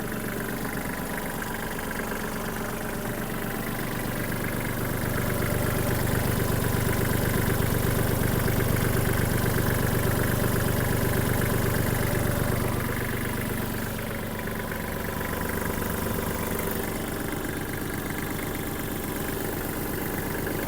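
A Kubota KL-25 mini tractor's small diesel engine idles steadily with a low, even rumble and a faint rise in loudness midway, with no voices over it.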